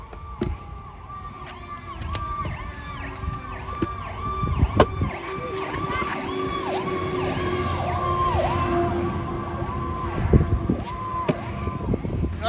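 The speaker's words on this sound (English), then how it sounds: "With the ambulance." A wailing ambulance siren cycles steadily up and down throughout, with traffic rumble and a few sharp knocks underneath.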